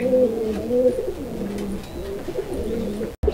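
Pigeons at a pigeon farm coo in low, throaty, repeated phrases, close and clear, one bird's call rolling into the next over faint background noise.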